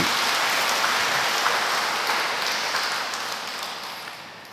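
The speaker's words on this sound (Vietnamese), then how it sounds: "Chúng ta cùng nổ một tràng pháo tay để chúc mừng giáo sứ" A church congregation at a thanksgiving Mass breaks into sustained applause, a dense, even clatter of many hands that gradually fades, with no voices over it.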